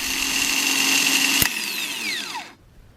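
Bench-tested starter motor from a GM 2.2L Ecotec spins with a loud high-pitched whine, a sharp click partway through, then winds down with a falling pitch before stopping.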